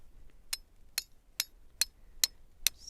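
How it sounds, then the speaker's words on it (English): A hammer taps a metal spile into a drilled hole in a maple tree with six sharp, evenly spaced strikes, close and crisp in a quiet outdoor setting. "I'm going to take my hammer. I'm going to tap it in."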